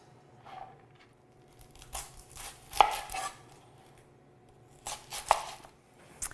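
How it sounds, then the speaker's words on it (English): A knife chops a whole red onion into squares on a board, giving several crisp, close cuts in two short bursts separated by a quieter pause. "I'm going to cut these up into sort of 3/4 inch squares"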